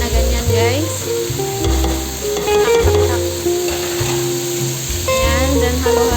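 Vegetables and spices for an Arabic-style lentil soup being stirred in a hot pot: loud continuous sizzling with repeated scraping stir strokes, close by.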